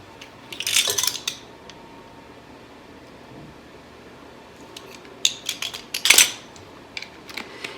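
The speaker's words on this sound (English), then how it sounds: "I'm just going to grab out another knife and attempt to level that off." A knife scraping across a measuring spoon to level off an ingredient for breakfast cookies, producing two short bursts of bright metallic scraping and clinking, separated by quieter background.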